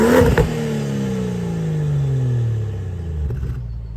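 A BMW 435i with a Stage 2 tune starts up with a sharp bark, then its engine revs up and slowly settles, the exhaust note falling as it idles down, loud and close, with no talk.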